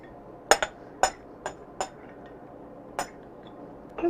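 Chopped apples packed by hand into ceramic ramekins, heard as about seven sharp, separate clinks and taps of ceramic against ceramic or utensils, spaced irregularly in an otherwise quiet kitchen with no talking.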